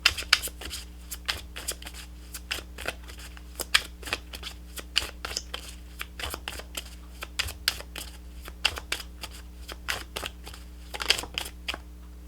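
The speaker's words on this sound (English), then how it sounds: "Just trying to move these cards." Tarot cards shuffled and handled by hand, a dense run of quick, close papery snaps and flicks that keeps going steadily throughout, with no talking.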